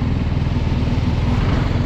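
Motorcycle engine running loud and close after refueling, a steady pulsing drone with an even rhythmic chug as the bike pulls away, no voices.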